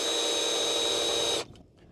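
A power drill whines at a steady high pitch while boring pin holes in an antenna part, then stops abruptly, leaving quiet room tone.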